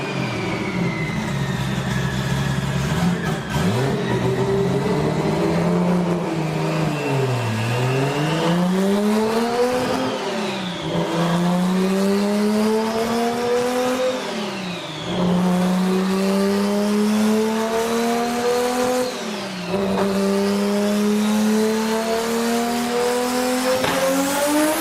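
A Ford Model A engine on a dyno pull with the timing advanced, loud and close, rising again and again in long high-pitched revving sweeps that dip briefly between climbs.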